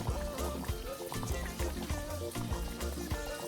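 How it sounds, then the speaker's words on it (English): More water splashes and trickles into a cooking pot of yam porridge, close up, with irregular pours, dribbles and light knocks against the pot over a few seconds. "So just put more water."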